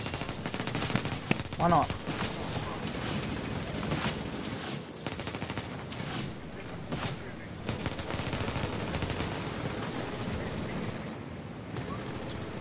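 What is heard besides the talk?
gunfire in a video game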